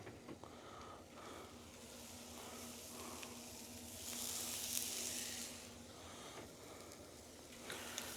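Asparagus sizzles and chars on a hot backyard griddle, a steady soft frying hiss that swells briefly midway with a few faint clinks, no voices.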